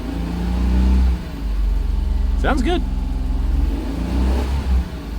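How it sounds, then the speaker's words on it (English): A Japanese-market car at an auction in Osaka gets a few gentle revs while warming up, the engine note rising and falling briefly under steady idle rumble as people talk nearby. "We're just gonna give it some gentle revs."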